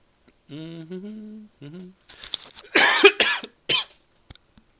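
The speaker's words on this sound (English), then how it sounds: "Excuse me, cough, cough, cough." A few sharp, close coughs in quick succession, preceded by a short hummed vocal sound, with no talking.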